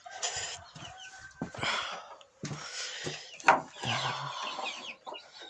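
Chickens and young chicks on a farm cluck repeatedly near a feeder scattered with feed, a busy, close run of overlapping calls with one sharper squawk midway and no talk over it.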